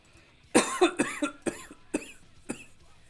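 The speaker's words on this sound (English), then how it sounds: "I'm still got a little bit of a cough" A person coughs in a quick series of five or six harsh, close bursts, with brief gaps between them and no talking.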